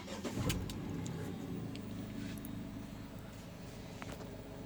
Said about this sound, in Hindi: स्टार्ट करते हैं अपन कार को।